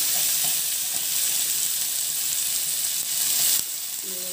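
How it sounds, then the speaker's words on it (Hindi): Onions browning over low heat in a pan give a steady, close frying sizzle with light crackle, which drops slightly near the end as a few clinks sound. "प्याज को मैं अच्छे से लाल कर लेती हूँ।"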